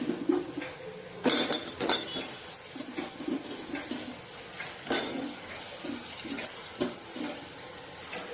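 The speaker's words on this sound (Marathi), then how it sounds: "आता यात शेंगा घालूया।" Drumstick pods drop into a pot of moong dal amti in a home kitchen, with close clattering and clinks of utensils against the pot in short bursts among quieter handling sounds.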